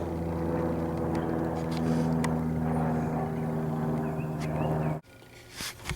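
An airplane drones steadily overhead with a loud, sustained propeller-like hum for about five seconds, then cuts off abruptly into quieter background noise.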